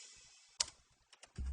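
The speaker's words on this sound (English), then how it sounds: "What you heard there was me pressing the keyboard and it triggered our sounds." A few computer keyboard keys are pressed in quick clicks, followed by the onset of a low, booming DubTurbo beat sample triggered by the keystrokes.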